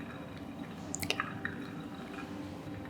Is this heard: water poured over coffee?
yes